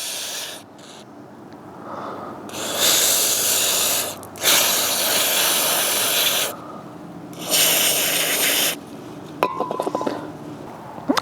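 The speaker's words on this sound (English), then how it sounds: "take brake cleaner and spray from the inside out" Brake cleaner sprayed in several long hissing bursts, inside out, onto the two oil screens of a 2020 KTM 500 EXC-F dirt bike in a workshop, with short pauses and a few clinks of metal parts near the end.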